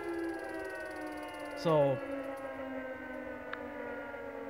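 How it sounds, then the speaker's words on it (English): A loud outdoor siren sounds as a steady multi-toned wail in the distance throughout, heard beneath a man's brief spoken word and light background traffic. "That's a very loud siren."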